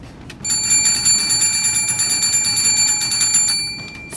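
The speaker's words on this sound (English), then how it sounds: "Suddenly, a loud bell rings in the firehouse." A fire alarm bell rings loudly in a firehouse, a rapid metallic clatter of strikes that starts suddenly, rattles on steadily for about three seconds and stops.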